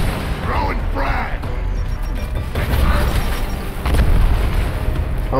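A frag grenade explodes in the video game Gears of War Ultimate Edition, giving a heavy, booming blast with rumbling debris amid ongoing loud combat noise, while players talk over it.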